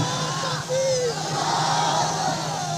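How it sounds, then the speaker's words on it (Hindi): A large crowd at a religious gathering loudly shouts the takbir slogan, Allahu Akbar, in one massed, rising roar that swells and then holds. "हाणे हिते नारे तकबीर जो आवाज़ो बुलंद थींदो"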